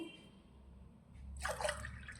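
A short, quiet pour of water splashes into a pot after a near-silent moment, rising briefly and then easing off.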